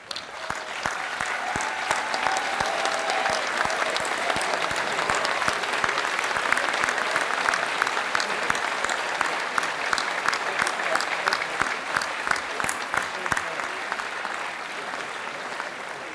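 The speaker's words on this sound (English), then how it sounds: "join me in applauding this wonderful faculty arrayed behind me" Commencement audience gives sustained, dense applause for the faculty, a steady roar of many hands clapping that holds loud throughout.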